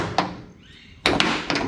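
An International truck door latch clicks and thunks shut in a few sharp, close knocks, one early tap followed by a louder latching clunk and a second catch.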